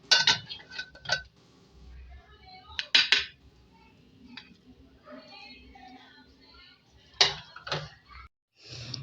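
Dishes and cutlery clink as egg and semolina halwa is served: scattered sharp metallic taps and scrapes, a few louder clusters, with quieter handling sounds in between.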